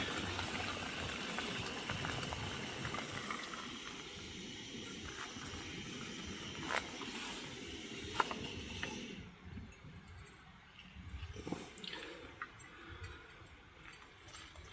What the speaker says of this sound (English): we have already got a rolling boil there